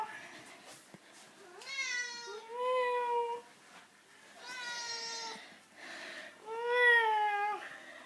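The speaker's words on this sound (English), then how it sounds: "My three-legged cat." A three-legged cat meows repeatedly indoors, long drawn-out wavering cries in three or four bursts, fairly close and clear.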